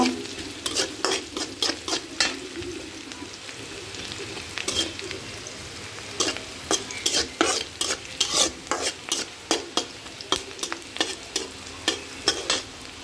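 Chopped onions frying in a pan with a little salt, a constant sizzle broken by frequent sharp scraping strokes of a spatula stirring them, close and fairly loud.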